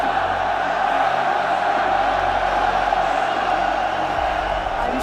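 Dense arena crowd of esports fans cheering continuously at the RLCS Paris Major Rocket League playoffs, a steady loud roar with whoops sustained throughout, no single voice standing out.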